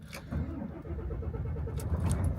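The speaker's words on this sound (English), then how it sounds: "Come on, truck, start up." A truck engine cranks on a chilly early winter morning, giving a steady, rapid chugging rhythm of starter pulses that runs for about two seconds without catching. No voices are heard.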